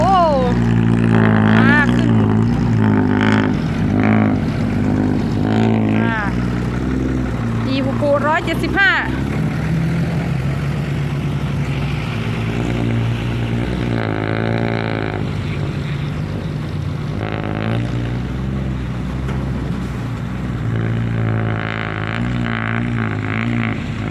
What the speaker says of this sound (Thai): ให้ฟังดูที่เสียงนะคะ ตอนเร่งเครื่องขึ้น